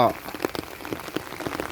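Rain falls steadily in the Isan countryside near a fish pond, a dense patter of drops striking surfaces with irregular louder taps throughout.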